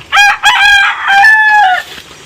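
A rooster crowing loudly and close by, one full drawn-out cock-a-doodle-doo with a short choppy start and a long sustained final note, alone without talk.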